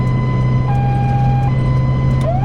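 A loud, close ambulance siren in patient-pickup mode holds a steady electronic tone, then shifts pitch and begins to rise, over a low engine hum.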